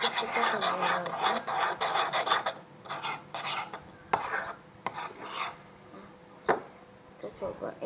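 Homemade slime is stirred with slime egg mixed in, giving a wet, sticky rasping and scraping that runs in a steady back-and-forth rhythm with a few sharp clicks, close and moderately loud, while someone talks over it.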